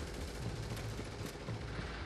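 Gunfire in the video game Tom Clancy's The Division, a rapid dense volley of shots forming a continuous rattling burst, heard faintly throughout a short stretch without talking.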